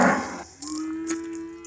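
A heifer on a farm gives a single drawn-out moo that starts loud and close, then settles into a long, steady lowing tone.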